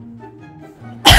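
A single sharp sneeze bursts out at the very end from someone with a cold, following a moment of quiet low hum.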